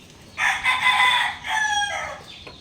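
An eight-month-old young rooster (stag) gives one loud, close crow lasting about a second and a half, with a strained, breaking finish and no talk over it.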